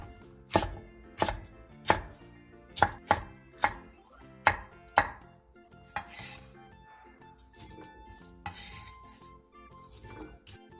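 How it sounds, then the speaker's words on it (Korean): A knife chops medium onions, an apple and red chili peppers into large chunks on a cutting board, with about eight sharp, evenly spaced strikes close up. Softer clinks of dishes and utensils follow. "중간 사이즈 양파 4개, 사과 1개, 홍고추 20개를 갈기 좋은 크기로 큼직하게 잘라주세요."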